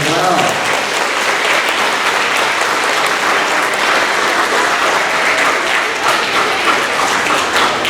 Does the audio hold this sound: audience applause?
yes